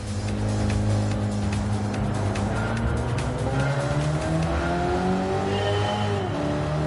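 A NASCAR racing car in Gran Turismo 7 screams at high speed, its engine a loud, sustained whine with rising and shifting tones, mixed with tire squeal as it pushes on alone.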